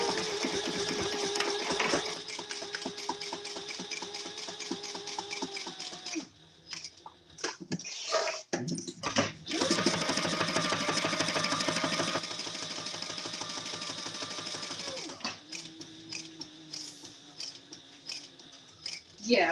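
A sewing machine stitching fabric 1/8 inch around its edge, a close, rapid mechanical whirring in long bursts that stop and restart, with a tonal whine over the motor and brief gaps between runs.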